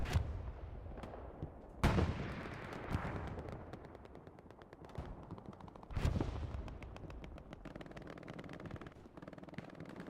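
Machine gun fire in the World War II shooter game Hell Let Loose, with rapid bursts and heavy booming shots that echo and fade into rolling distant gunfire across a battlefield, loud and continuous with no talking.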